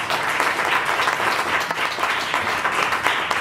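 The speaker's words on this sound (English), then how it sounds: "Let's give a round of applause for John Morgan." Audience at an iHeartMedia Q&A event applauds for a guest, a loud, close, sustained patter of many hands clapping without pause.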